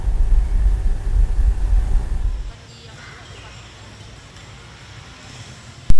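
A KRL electric commuter train in the Jabodetabek area rumbles past loudly and close for a couple of seconds, then the heavy roar drops away to a quiet background hum.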